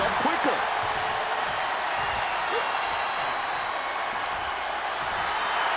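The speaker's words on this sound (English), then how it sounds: "The sound of this crowd is deafening, and he's asking for more." A wrestling arena crowd in WWE 2K22 roars in a dense, constant, loud wash of cheering, with occasional thuds and squeaks from the ring underneath.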